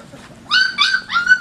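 Five-week-old puppies from a litter whimper and yip close up, a few high-pitched squealing cries in quick succession after a quiet start.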